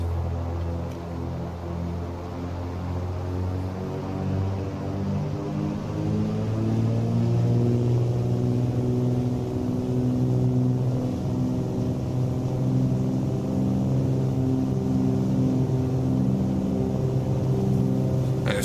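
Cessna 310R twin engines in a flight simulator drone steadily through a takeoff roll, a layered, even hum that swells in power early on and then holds a sustained roar.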